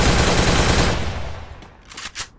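Rapid automatic gunfire in a battle-royale video game rattles loud and dense, then cuts off and leaves a couple of fainter trailing shots.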